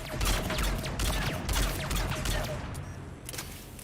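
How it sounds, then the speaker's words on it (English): Rapid bursts of automatic gunfire in Mass Effect 3, shooting at a force field, a dense fusillade of sharp repeated shots, loud and close, with a brief lull near the end. "We'll just shoot it until it fails."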